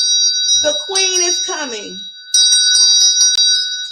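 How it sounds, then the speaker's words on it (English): Wind chimes ring at a ceremony honoring the mother, with sustained bright metallic tones at the start and again later, separated by speech in the middle. "go ahead and get your wind chimes"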